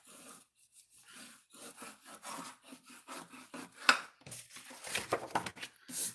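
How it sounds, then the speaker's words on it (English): A bone folder rubs and creases paper while a handmade journal is being wrapped, making a run of soft, rhythmic scraping strokes. The sound is close but quiet, with a few sharper rasps near the end. "take my bone folder and go through there and wrap that up"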